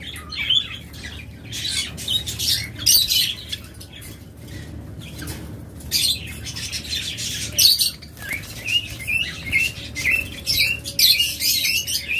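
Caged birds, such as budgerigars, lovebirds, cockatiels, diamond doves and java sparrows, squawk and chirp at a bird seller's, with shrill calls in dense bursts over a low background hum and occasional flutters.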